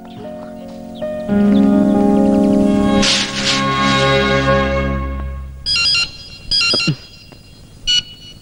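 A cellular phone ringtone plays loudly nearby as a sustained electronic melody, then gives way to several bright, repeated beeping bursts.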